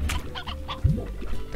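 Chicken clucking in the video game Slime Rancher, a few short close clucks and squawks with a brief low thump partway through, no talk.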